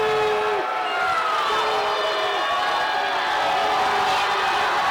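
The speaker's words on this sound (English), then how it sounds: "Loud crowd here Friday night." A loud, roaring crowd cheers at a Friday night high school boys basketball game in Davenport, Iowa, with continuous gym noise and scattered shouts throughout.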